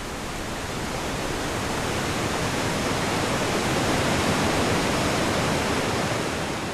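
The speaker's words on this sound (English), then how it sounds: "making the Rhine Falls one of the biggest waterfalls in Europe" The Rhine Falls in Switzerland, one of Europe's biggest waterfalls, roars in a dense, steady wall of rushing water. The sound is loud and close and holds constant throughout.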